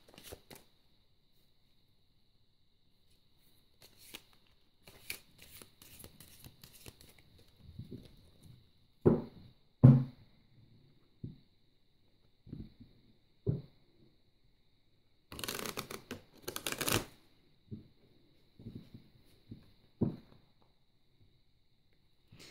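Tarot cards being shuffled by hand, with intermittent bursts of riffling and soft slapping, some longer rustling stretches and quiet pauses between them, close and fairly faint.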